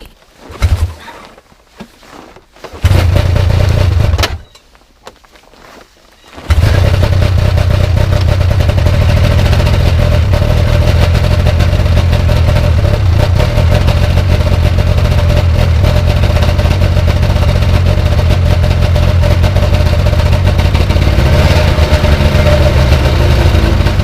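A two-stroke snowmobile engine, primed beforehand, cranks with brief sputtering attempts, then catches and settles into a loud, steady, buzzing idle that runs continuously to the end.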